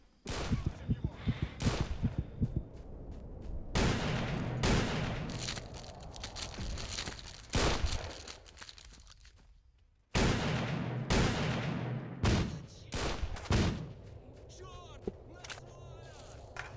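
Gunfire in the S.T.A.L.K.E.R. game: repeated loud shots and bursts crack from several directions, some rapid and clustered, others single, with short pauses between volleys.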